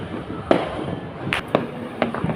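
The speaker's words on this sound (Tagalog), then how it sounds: "Ito po yung firework dito sa kabila ay ano po yun, abroad mga ka-discover" Fireworks on New Year's Eve going off at a distance: three or four separate sharp pops spaced about half a second apart, each followed by a short crackling tail, over a steady hum of background noise.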